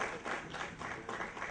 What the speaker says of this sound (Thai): ขอเสียงปรบมือต้อนรับนะคะ